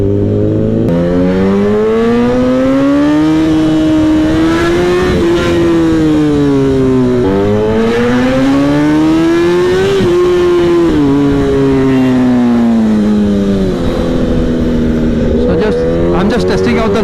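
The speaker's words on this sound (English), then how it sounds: "I'm just testing out the limits of this bike, the acceleration and the stopping power" A Kawasaki ZX10R sport motorcycle revs hard and close, its engine pitch climbing and falling through repeated gear changes in a loud, continuous roar while out riding with a group of other bikes.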